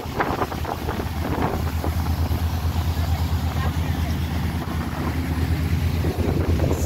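Steady broadband rumble of a boat's engine and wake while travelling on the water toward Ship Cove in the Marlborough Sounds, with constant wind buffeting the microphone throughout.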